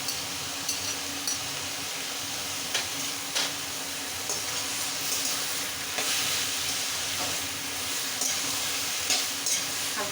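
Pre-fried prawns being stirred into a spiced ivy gourd chorchori in a pan: a continuous moderate sizzle with scattered utensil taps and scrapes, close and without talk.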